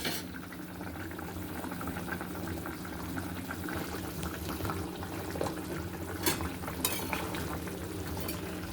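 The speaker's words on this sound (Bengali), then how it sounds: "আর 5 থেকে 6 মিনিট আমি এটা একটু ফুটিয়ে নেব, যাতে মাছগুলো ভালো মতো ঝোল ঢুকে যায় মাছের গায়ে" Rohu fish curry bubbles in a pan over the heat, a steady close-up simmering crackle with soft popping bursts and occasional louder spatters throughout.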